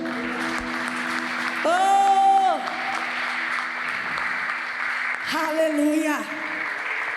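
In a church service, the congregation claps continuously under the sung and spoken voices of a worship leader. The steady, moderately loud applause carries on throughout alongside the voices.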